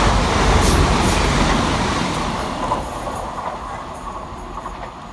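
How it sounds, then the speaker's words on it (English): Class 185 unit 185 113 on a Manchester Victoria to Scarborough service passes fast through Deighton station. A loud rushing roar with wheel and rail noise fades steadily as the train moves away, and nobody speaks. "Next to fly fast through the station is 185 113, working 1P27 from Manchester Victoria through to Scarborough."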